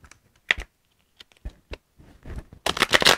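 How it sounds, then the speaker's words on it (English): A deck of tarot cards is shuffled by hand in short, crisp bursts of riffling and clicking, separated by brief quiet gaps before a longer, louder flurry of shuffling at the end. "Sorry if the shuffling is loud."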